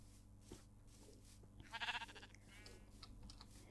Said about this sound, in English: So many sheep!